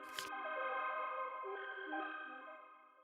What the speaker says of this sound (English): I have this analog clap as well with like a simple up